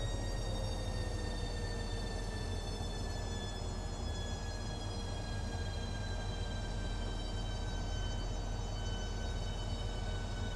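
A high-speed train on the London to Faversham line pulls into a station platform with a loud, steady rumble of wheels and carriages. A whining tone slowly falls in pitch throughout.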